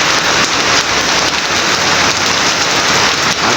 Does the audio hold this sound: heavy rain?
yes